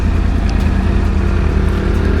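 A Yamaha YZF R1 1000cc superbike rumbles along at steady cruising speed, its engine note dense and loud with heavy wind rush, close up and continuous with no talking.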